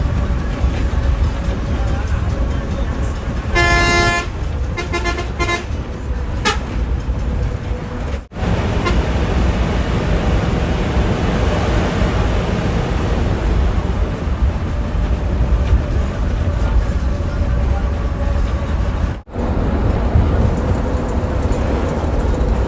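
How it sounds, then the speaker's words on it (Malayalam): A Sri Lankan bus runs on the road between Trincomalee and Dambulla with a loud, steady engine drone and road rumble heard from inside the cabin. A brief horn-like tone sounds early, and a voice talks over the noise. "ബസ് നല്ല പോക്ക് തന്നെയാണ് പോകുന്നത്."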